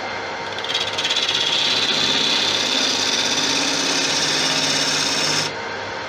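A carbide tool cuts a spinning wood and resin hybrid bowl on a lathe, a steady close rasping scrape that starts abruptly, holds for about five seconds, then stops.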